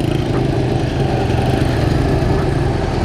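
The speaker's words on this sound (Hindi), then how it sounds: "ये जाकर अभी रूलर काम कर रहे जी आगे रोड को तैयार कर रहे जी कारपेट के लिए" A road roller's engine drones steadily and loudly at a village road construction site near Dadyal in Kashmir, a continuous close mechanical hum with no speech.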